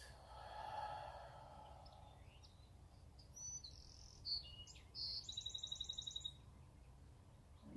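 Faint outdoor birdsong heard during a morning yoga session: scattered high chirps and a rapid trill of repeated notes toward the end, over soft background hiss and quiet breathing.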